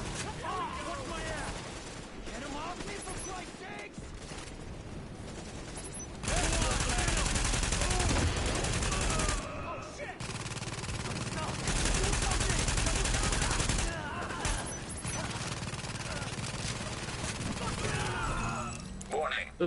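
Gunfire in The Division comes as loud bursts and sustained volleys across a busy firefight, with players talking over the shooting throughout.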